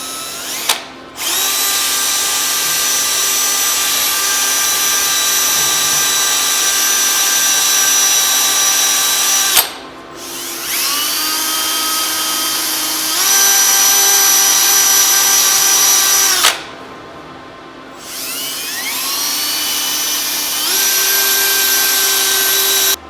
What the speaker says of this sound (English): you can see I got my drill here, and we can start working on this